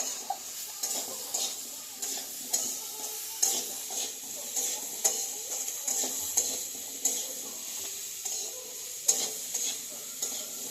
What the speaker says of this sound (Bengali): একটু ভাজা হোক সবজিটা।